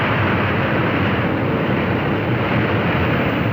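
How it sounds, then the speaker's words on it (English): Airliner propellers switched to reverse pitch to brake the plane after landing, producing a loud, steady, broadband roar that holds without a break throughout. "The captain will reverse the pitch of the propellers and push the air forward and just stop the plane."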